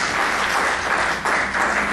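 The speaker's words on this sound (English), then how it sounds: "Please, a round of applause." A brief burst of dense audience applause at a Capitol Hill panel event on building a competitive America, loud and even throughout.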